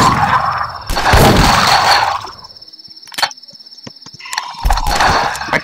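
A gun being reloaded in a video game: a few sharp mechanical clicks and clacks between bursts of loud noisy game sound, brief metallic hits standing out, no talking.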